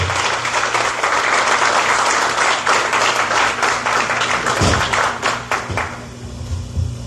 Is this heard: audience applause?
yes